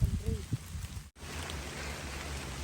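Steady rain patters down close by while vegetables are picked in a forest, a constant soft hiss after a brief bit of talk at the start.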